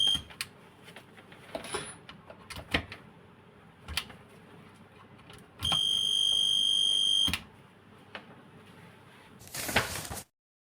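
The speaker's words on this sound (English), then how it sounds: "When the plug is inserted in the wrong way, the LED becomes bright and the buzzer goes off." A polarity tester's steady electronic buzzer sounds for about two seconds after a few clicks and handling noises, followed by a short burst of rustling.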